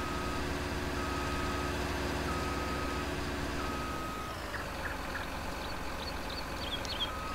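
A truck in Landwirtschafts-Simulator 19 idles with a low engine hum, then faint, regularly repeating reversing beeps come in during the second half, alone with no talk.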